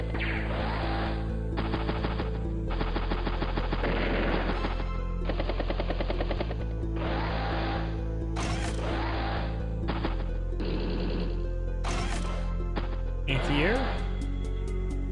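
Anti-air tank unit opening fire in the Advance Wars: Days of Ruin video game, a rapid burst of loud repeated cannon shots over a constant looping game music track.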